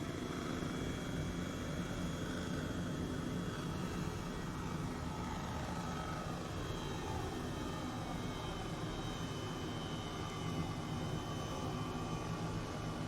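A steady, loud rotor and turbine drone of an Airbus H135 helicopter coming in to land in Microsoft Flight Simulator, a continuous whine and thrum with no break or voices.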